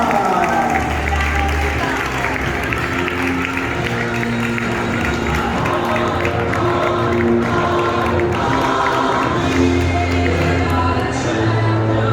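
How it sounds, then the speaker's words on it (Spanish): A crowd at a karting race applauds and cheers for several seconds while an amplified voice talks over the noise. "vamos a recibir con un fuerte aplauso a Juan Medina"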